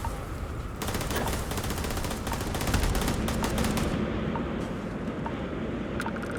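Rapid bursts of turret gunfire rattle through a Starfield compound, dense repeated shots in several volleys over a low rumbling background, loud and close.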